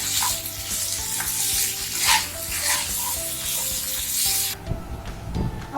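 Chopped tomato is stirred into vegetables frying in a pan for a Bengali vegetarian dhokar dalna, giving a loud, continuous sizzle broken by scraping spoon strokes, with a steady tonal backdrop and no talking.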